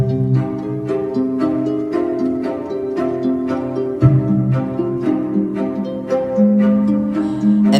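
The opening of the Storm level soundtrack from the mobile game Dancing Line plays as a steady, rhythmic melody of struck, decaying notes over sustained harmony, with no talking.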